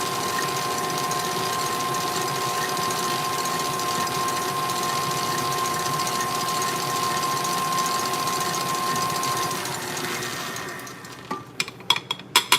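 Stand mixer with a whisk attachment running at low speed on macaron batter, a steady mechanical whir and hum for about ten seconds, then winding down into a few sharp clacks and knocks near the end.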